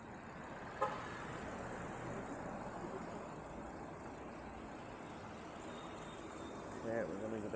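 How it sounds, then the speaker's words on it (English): A motor vehicle on a road comes up from behind a cyclist on an e-bike, its steady engine and tyre rumble growing slightly louder toward the end, with wind noise throughout and a brief sharp knock early on. "I've got a vehicle coming behind me."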